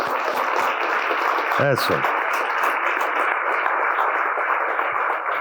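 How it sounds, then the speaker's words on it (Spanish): A church congregation claps during a sermon, a steady wash of applause throughout, with a voice briefly speaking over it. "Yo creo que hoy me voy a aplaudir yo solo porque ustedes ni ganas de aplaudir. Déselo fuerte."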